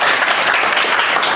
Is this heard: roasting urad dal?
no